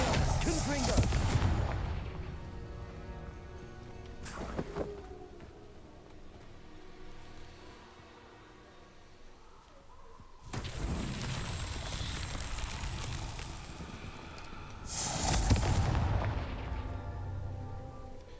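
Confringo blasting spells in Hogwarts Legacy, heard as several loud broadband explosive bursts, with strong hits near the start, around five seconds and in the final stretch, separated by quieter rumbling game ambience.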